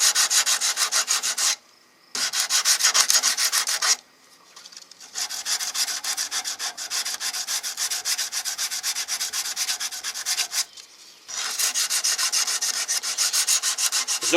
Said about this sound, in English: And I've got sanding block.